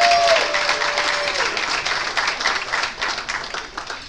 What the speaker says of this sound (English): So if you can just give them a round of applause.